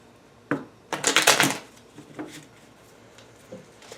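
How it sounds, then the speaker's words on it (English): Quick papery riffling of tarot cards being shuffled, a short burst followed by a few softer taps and slides, close by and otherwise quiet. "One more shuffle."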